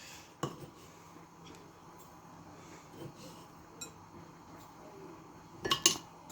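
A spoon clinks against a bowl while two spoonfuls of sugar go into a beetroot and egg halva mixture, with a few faint taps early on and a brighter cluster of clinks near the end.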